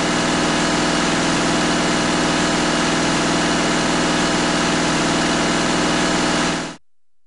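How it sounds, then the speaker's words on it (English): A common rail diesel engine runs at high idle during fuel system testing, giving a steady, loud, unchanging drone that cuts off abruptly near the end. "Run the engine at high idle and record the gauge readings."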